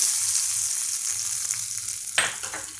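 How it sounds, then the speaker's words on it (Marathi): A soft, steady hiss of hot oil, then a sudden louder sizzle burst near the end as the tempering is poured onto chutney. "या चटणीसमोरच मी आता ही फोडणी घालते"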